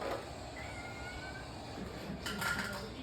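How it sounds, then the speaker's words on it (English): Two pet cats meow at each other indoors, faint and brief calls within a quiet room noise, with a short clatter near the end. "They're both meowing at each other."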